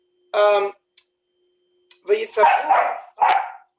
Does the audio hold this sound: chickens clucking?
no